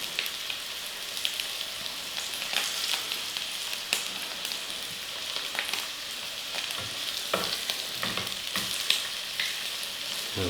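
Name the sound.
flounder fillet frying in a pan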